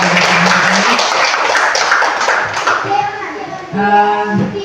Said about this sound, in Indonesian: kita berikan dulu aplaus untuk CGP kita